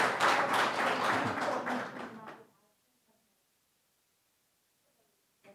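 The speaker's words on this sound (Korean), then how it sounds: "박수 부탁드리겠습니다" An audience at a Korean National Assembly policy forum applauds, loud close clapping for about two seconds that quickly dies away into near silence, with a faint knock at the end.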